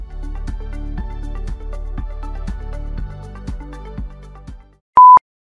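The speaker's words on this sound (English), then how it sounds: "One short beep meaning system post" A computer's BIOS gives one short POST beep signalling a successful, normal boot: a single brief, clear electronic tone that follows a run of steady, repeated low pulsing tones.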